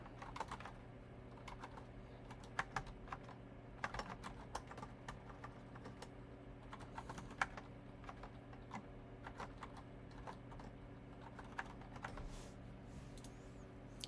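Fingers type on a computer keyboard in a run of quick, uneven clicks with short pauses, soft and close, with no voices.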